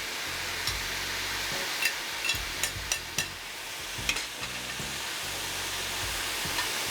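Onions for Flemish carbonnade fry in a hot pan with a steady broadband sizzle, close by, as a spoon stirs them in a handful of scraping knocks.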